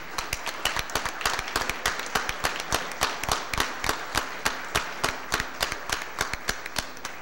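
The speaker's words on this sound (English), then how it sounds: "join me in one more round of applause for them" Audience at a board of aldermen meeting claps in a round of applause, the claps sharp and fairly evenly spaced, a few hands close and prominent over a softer crowd wash, without talk.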